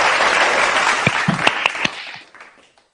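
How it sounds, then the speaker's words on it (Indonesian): Audience applause at a women's empowerment award webinar in Indonesia, a dense wash of clapping that holds steady, then thins to a few scattered claps and fades out near the end. "maka kita harus tepuk tangan untuk memberi semangat pada kita semua yang hadir di sini"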